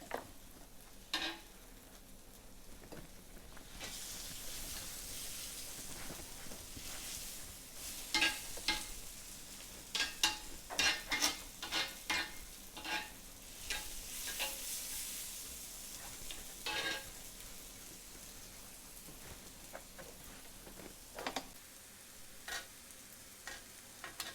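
Onions fry softly in a pan for a cheese steak sandwich, browning slowly with a steady low sizzle and scattered clicks of a spatula stirring, fairly faint and close, with no voices.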